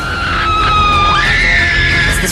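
A shrill, sustained scream from a monster movie rises and bends in pitch, loud and close, lasting the whole short moment.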